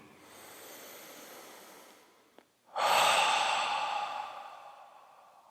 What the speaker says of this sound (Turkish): Bir burundan nefes alıp ağızdan boşaltalım.